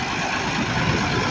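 A tractor engine runs steadily on a farm in Saudi Arabia, giving a continuous, fairly loud idling rumble with no breaks and no talk over it.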